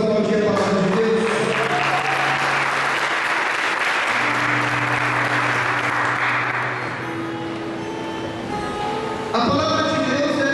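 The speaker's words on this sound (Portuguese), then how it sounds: "Vamos aplaudir a palavra de Deus." A church congregation applauds after a Gospel reading, a broad, steady wash of clapping lasting several seconds and tapering off, with faint voices and sustained tones underneath.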